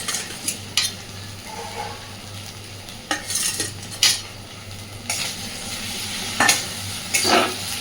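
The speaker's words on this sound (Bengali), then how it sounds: "জিরে বাটাটাকে দিয়ে আবারও ভালোভাবে নাড়তে থাকবো আর মশলা কষাতে থাকবো" Masala being stirred and fried with cumin paste in a pan for a stingray curry, with repeated scraping strokes of a spoon against the pot over a steady low sizzle, heard close and alone.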